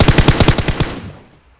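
A rapid burst of about eight automatic-rifle shots rings out in the PUBG video game, loud and closely spaced, then cuts off and fades into a short quiet tail.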